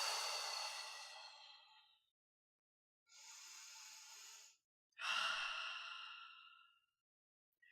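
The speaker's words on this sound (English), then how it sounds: "Take a deep breath in through your nose and out through your mouth." Three slow, deep breaths, each drawn in through the nose and let out through the mouth, close and alone with quiet pauses between them.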